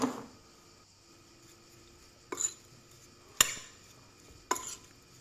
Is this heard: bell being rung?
no